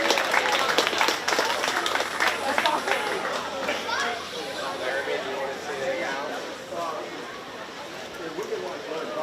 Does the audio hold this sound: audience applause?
yes